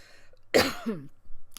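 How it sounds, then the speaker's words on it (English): A single short, harsh cough close to the microphone, followed by a brief breathy sound and near silence. "I've got a bit of a cough"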